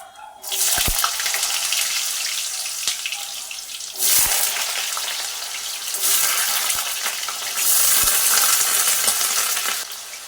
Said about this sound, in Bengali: এবার এই মধ্যে এই তেলের মধ্যে আমি আলুগুলো ভেজে নেবো